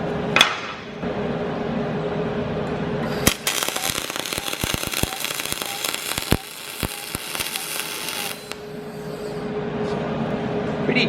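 Aluminium MIG welding with an SGT250 welder: a loud, steady buzzing hiss around a dense stretch of sharp crackling arc pops lasting several seconds, heard close up.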